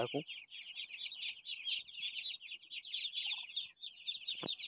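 A crowd of young Muscovy duck chicks at a sale cheeps and peeps continuously in high, overlapping chirps, close and fairly loud, with a few brief low knocks and handling noises.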